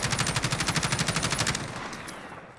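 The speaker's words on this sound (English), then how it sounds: "So let's try full auto," Full-auto burst from an HK433 battle rifle in Call of Duty Modern Warfare, a rapid, steady string of loud shots lasting about a second and a half, then a fading tail with one faint click.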